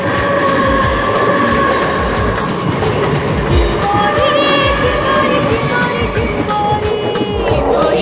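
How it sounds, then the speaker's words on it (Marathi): A train rolls past close to a railway station, a steady loud rumble and clatter of wagons filling the whole stretch with continuous noise and faint squeals. "ट्रेन चालली बघा."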